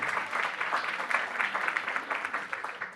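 A crowd applauding steadily at a business round-table conference, a dense patter of many hands clapping at an even level for a few seconds, with no voices standing out.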